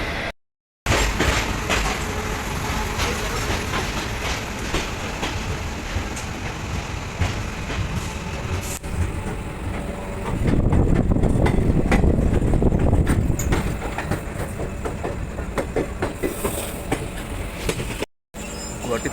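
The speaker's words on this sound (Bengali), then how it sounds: "ট্রেনটা ছেড়ে দিয়েছে।" Guwahati–Lumding Intercity Express rolling along the line, a steady broadband rumble with a louder, rougher passage midway, likely from on board the moving train, with no clear talk over it.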